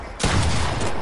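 Rapid video game gunfire, a dense, loud burst of overlapping shots that starts suddenly and continues without a break for about a second.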